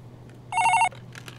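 An office landline telephone gives one short burst of electronic trilling ring, loud and close, against a quiet room with faint background noise and no talk.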